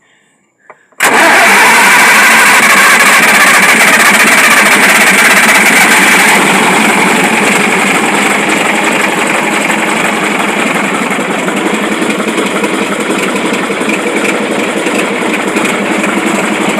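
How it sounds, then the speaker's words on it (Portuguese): A Scania LK 141 V8 truck engine bursts into life after a second of quiet and holds a loud, steady, rough idle, with the clutch spinning, continuing alone without talk. "A embreagem girando aí."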